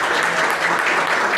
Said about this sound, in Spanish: Un fuerte aplauso para Gerardo.